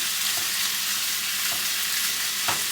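Hamburger meat browning in a hot pan, a constant bright sizzle and crackle close up, with a few soft scrapes and taps of stirring scattered through.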